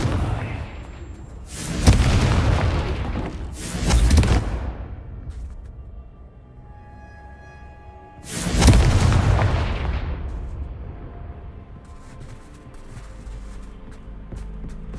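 Confringo fire spell blasts in Hogwarts Legacy: three loud booming explosions, two close together and a third after a pause, each trailing off in a long rumble, with no talk.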